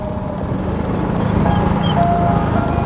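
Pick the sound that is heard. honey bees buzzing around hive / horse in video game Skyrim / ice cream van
ice cream van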